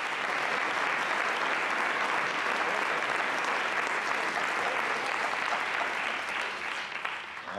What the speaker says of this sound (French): Applaudissez pas, s'il vous plaît.